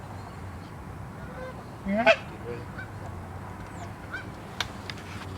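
Geese honk in a short faint burst during a hunt over goose decoys, followed by a few sparse distant calls against steady outdoor background noise. A voice speaks briefly.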